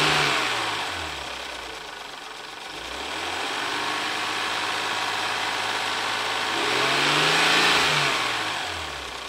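A 1994 Ford Probe GT's 2.5-litre V6, freshly fitted with new spark plugs and wires and warmed up, is revved repeatedly from idle, its pitch rising and falling in close, loud sweeps with a broad airy intake roar.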